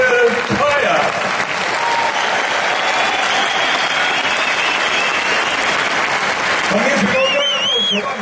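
A concert audience applauds a Vigo gospel choir in a hall, sustained dense clapping that fills the whole stretch, while a presenter's amplified voice speaks over the start and end.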